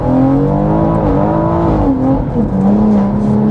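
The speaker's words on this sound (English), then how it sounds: "Let's see if we can do a little standing start." A 500bhp BMW M140i makes a standing start with wheelspin, its engine revving loud and close with a rising, wavering note as the tyres spin.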